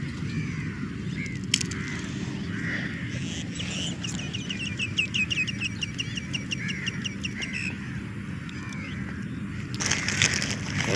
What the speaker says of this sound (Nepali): मलेसियामा फेरि काग चाहिँ थुप्रै छ